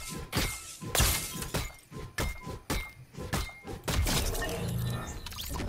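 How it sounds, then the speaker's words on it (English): In Fortnite Battle Royale, a Double Gold pickaxe strikes players again and again, with sharp shattering impacts and heavy thuds in an irregular series, loud and close, followed by a denser metallic clatter. "And here's what this pickaxe sounds like when hitting players."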